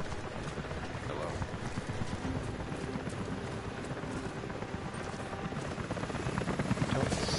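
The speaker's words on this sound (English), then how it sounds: "Helicopters are headed your way." Helicopter in the video game Rise of the Tomb Raider, a dense, loud rotor thump and engine roar sustained throughout, mixed with busy game sound effects and no speech.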